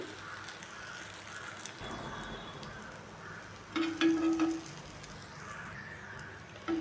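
Egg omelette with vegetables frying in a pan after being flipped gives a steady, moderate sizzle throughout, with a slightly louder burst of crackling midway and no one speaking.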